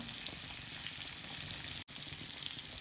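Pomfret fish frying in a pan, a steady close sizzle and crackle of hot oil running throughout, with one very brief dropout near the end.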